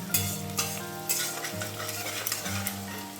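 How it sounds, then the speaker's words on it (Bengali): Grated garlic frying in a pan for a chitol fish muitha dish, a steady sizzle with a spatula stirring and scraping in rhythmic strokes close by, no voices. "রসুনটা আগে ভালো করে ভাজতে হবে"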